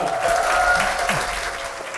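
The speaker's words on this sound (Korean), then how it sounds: "여러분들 박수 한번 드릴까요?" An audience at a talk concert applauds after a song, with a full, steady burst of clapping that fills the room and tapers slightly at the end.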